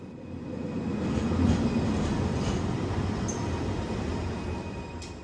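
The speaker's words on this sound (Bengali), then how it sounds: "এটা পুরোপুরি অটোমেটেড ট্রেন।" A fully automated, driverless Kuala Lumpur LRT train rumbles steadily at close range, a continuous low roll with faint high squeals, holding level for several seconds without voices.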